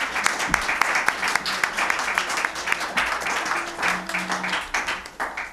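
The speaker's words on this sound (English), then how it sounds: "Now I ask you to join me in applauding and thanking the candidates for coming out." Audience at a school board candidate forum applauding the candidates; steady, fairly close applause with distinct individual claps throughout, a brief voice murmuring beneath it.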